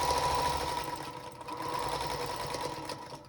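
Sewing machine running steadily, stitching fabric for a charm square quilt block, a continuous fast whirring with a brief dip partway through, close and quiet.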